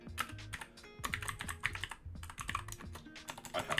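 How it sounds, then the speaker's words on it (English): Fast typing on a computer keyboard while coding for a web development project: dense bursts of quick clicking keystrokes, close and clear, with short pauses between runs and no talking. "I'm just fat typing, aren't I?"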